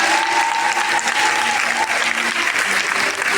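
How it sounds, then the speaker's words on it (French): A church congregation applauds and cheers in a steady, loud wash of clapping at a Christian gathering in Koumassi, sustained throughout with crowd voices mixed in. "voilà qu'on se lève pour acclamer là."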